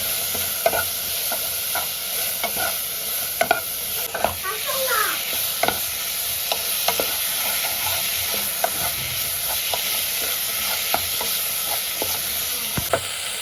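Spices sautéing in a pan sizzle and hiss steadily up close, while a spatula scrapes and taps at uneven intervals through the whole stretch.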